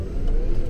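A custom-built all-electric Ford F150 truck accelerates hard with a steady, loud drivetrain rumble and whir throughout a brief moment, with no voices.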